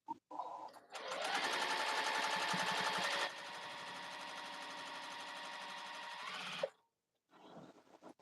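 A sewing machine chain piecing quilt blocks runs in a loud, steady whirring burst for several seconds, stops abruptly, then a quieter sound follows briefly.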